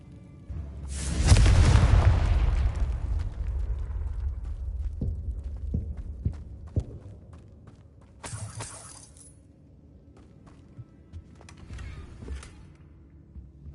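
A Confringo blasting spell in Hogwarts Legacy explodes with a loud, close shattering boom that rumbles and fades, followed by scattered crackles and a second shorter burst, with no voices.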